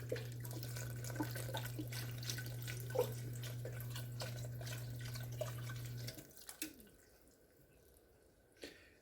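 Tap water running into a pot or container for a homemade Italian sausage dish, a steady, moderately quiet flow with a low hum that stops abruptly about two-thirds through, leaving faint drips and clinks.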